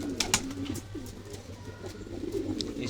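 Pigeons coo softly and steadily in a loft, a low rolling murmur carrying on throughout with faint background clicks.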